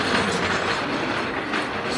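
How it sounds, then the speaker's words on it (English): A train rolls past with a continuous broadband rumble and faint clickety-clack of wheels on rails, steady and moderately distant with no voices over it. "Let's let the train go by again real quick."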